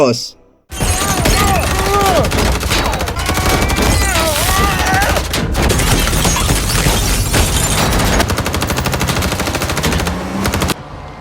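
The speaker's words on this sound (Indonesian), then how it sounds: "baku tembak pun dilanjutkan di luar rumah" A film gunfight shootout outside a house, sustained loud bursts of automatic gunfire with sharp cracks, shouting voices over the top and a brief silence near the start.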